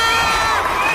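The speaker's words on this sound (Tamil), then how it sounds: "ஒரு பலத்த கைத்தட்டல் போடுப்பா" Studio audience at the Super Singer 7 singing show cheering and applauding, a loud, brief burst of crowd noise and shouts.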